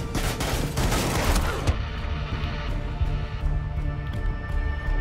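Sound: gunfire in the video game Rainbow Six Siege

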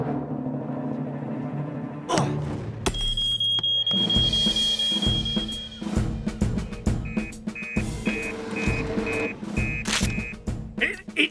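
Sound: supermarket fire alarm ringing, cartoon

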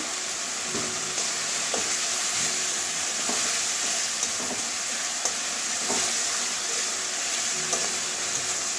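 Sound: sautéing spice paste (masala) in oil in a pan

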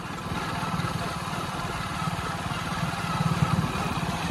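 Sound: motorcycle (bike) riding on an empty road

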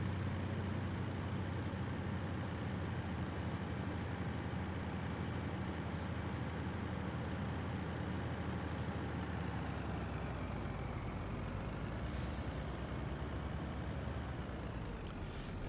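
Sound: truck being parked in a building, from a farming video game

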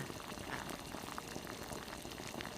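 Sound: sour bamboo shoot fish curry boiling in pot

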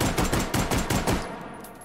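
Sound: rapid fire of ten rounds from a stocked Mauser C96 in the VR game H3VR

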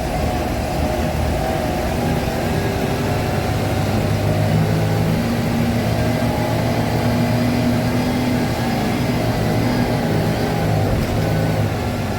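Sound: MSRTC ST bus engine while travelling

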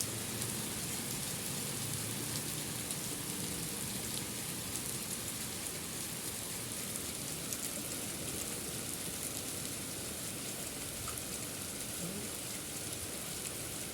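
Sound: rain falling

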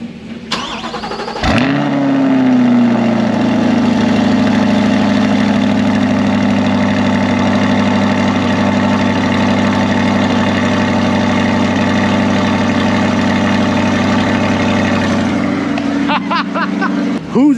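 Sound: Chevrolet Corvette C8 engine idling after cold start, stock exhaust

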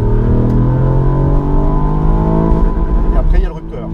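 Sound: Ford Puma ST three-cylinder engine revving to 6500 rpm

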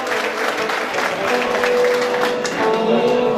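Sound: audience applauding the poets at a wedding meykhana

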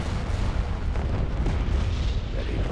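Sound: starship firing shots in Star Wars space battle video game

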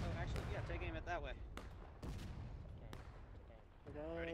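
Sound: musket volley fire in the video game War of Rights

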